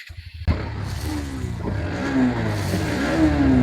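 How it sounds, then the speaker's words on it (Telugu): A Bajaj Pulsar NS125 motorcycle in good running condition starting up: a brief cranking clatter, then the engine catches and settles into a steady close idle with slight rises in pitch. "వెహికల్ ని స్టార్ట్ చేసి చూపిస్తాను, మీరు కూడా ఒకసారి చూడండి."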